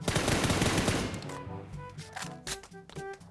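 Bursts of automatic gunfire in the PUBG New State mobile game, loud rapid shots at first, then sharper scattered single cracks with ringing tones in between, no one speaking.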